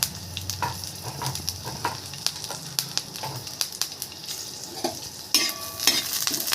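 Green chillies, garlic and curry leaves frying in a little oil for coconut chutney: a steady crackling sizzle with repeated spoon-against-pan stirring clicks, close by and moderately loud.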